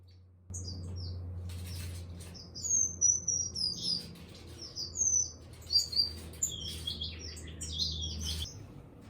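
Finches chirp and tweet in an aviary, a busy overlapping flock of short high calls close by over a low steady hum, with no talking.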